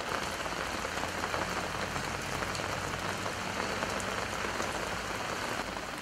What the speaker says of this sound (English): Anytime it rains, the roofing leaks.